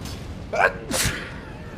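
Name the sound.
sneeze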